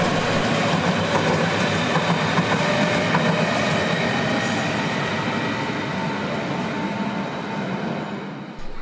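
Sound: S-Bahn train at Berlin-Gesundbrunnen station

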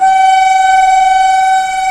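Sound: train at a railway station

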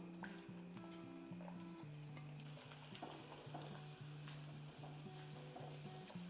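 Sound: coconut frying in hot oil

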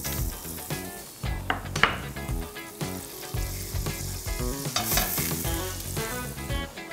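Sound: butter melting and sizzling in a rice pot while stirring

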